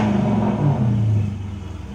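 A Dodge Charger R/T engine revs up close as a loud, deep rumbling surge. It then eases back toward idle within a couple of seconds, and no voices are heard.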